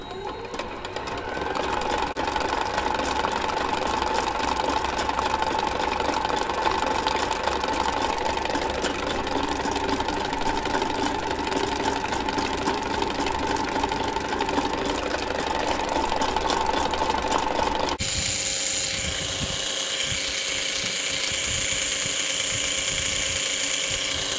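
An electric mixer beats sugar for homemade fondant, a steady motorized whir running continuously for most of the clip before stopping abruptly near the end, leaving a quieter changed background.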